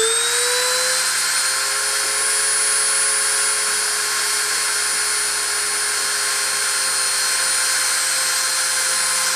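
A high-speed spindle spins steadily at 30,000 RPM during a deposition run, giving a continuous high-pitched whine with tonal harmonics, close and loud without a break, and no voices.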